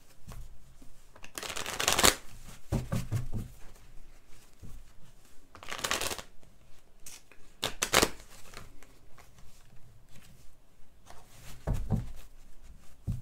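Tarot cards being shuffled in several bursts of crisp riffling and flapping, with louder shuffles near the start, middle and end and soft handling between, close and with no talk.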